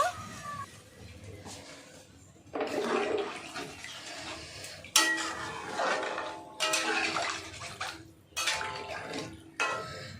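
Salted turmeric-marinated fish water poured into a cooking pan for a small charapona fish curry, heard as repeated splashy pours and watery rushes with pan clatter, moderately close.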